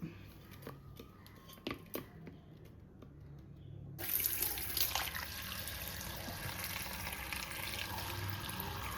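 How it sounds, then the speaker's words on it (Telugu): Drinking water from a kitchen tap comes on after a few seconds of faint handling clinks, then pours in a steady, close, splashing stream into a sink. "ఇది మంచినీళ్ళ ట్యాప్ వాటరు,"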